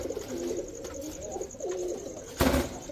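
Teddy pigeons, a Pakistani breed, coo in soft repeated low phrases at close range, with a sharper flutter or knock near the end and no talking.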